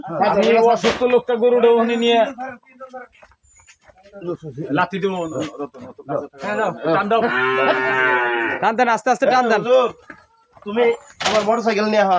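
A cow moos loudly and close, several long drawn-out lowing calls one after another, with a brief pause in between.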